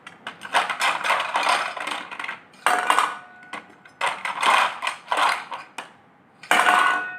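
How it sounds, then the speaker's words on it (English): Wooden toy blocks drop one after another into a steel container, each landing with a bright metallic clatter and ring, in irregular clustered bursts separated by short silences. "children would love to hear the sound of the blocks when they drop into the steel container"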